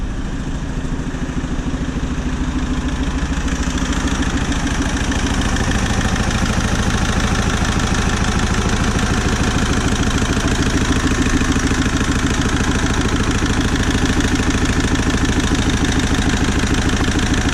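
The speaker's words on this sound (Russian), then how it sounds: "Все равно троит после перегазовки." Iveco Daily diesel van engine idling unevenly with one dead cylinder, a steady rough, lumpy knock and clatter running continuously and close throughout, slightly louder after the first few seconds.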